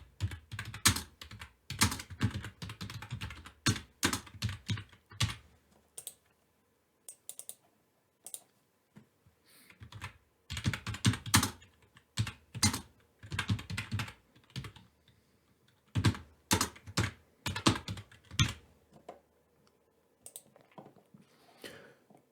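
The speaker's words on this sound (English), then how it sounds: "I'm going to start by typing the titles into the spreadsheet." Typing on a computer keyboard, close and fairly quiet, with bursts of rapid clicking keystrokes separated by short pauses.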